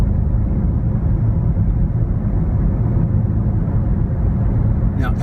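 A Toyota Prius Prime cruises and picks up speed on a highway, steady road and engine rumble heard from inside the cabin, a continuous low drone at an even level.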